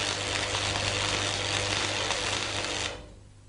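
Stick electrode arc welding run at too slow a travel speed, so the weld metal piles up: a loud, steady, dense crackling hiss that holds for about three seconds, then cuts off abruptly to near quiet.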